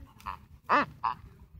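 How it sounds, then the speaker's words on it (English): Three short squeaks from a rubber duck toy, the middle one loudest, squeezed in quick succession against a quiet background. "a squeaky toy."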